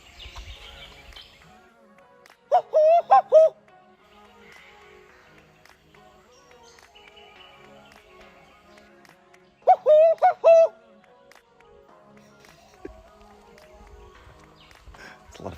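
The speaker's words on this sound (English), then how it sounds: "If you can hear those birds in the background calling to each other." Birds calling to each other at Mataranka, two separate bursts of loud warbling calls several seconds apart over a quiet, still background.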